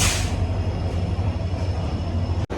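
A Garib Rath train arrives at Kolkata station, rumbling steadily close by, a deep continuous roar with a brief hiss at the start and a sudden dropout near the end.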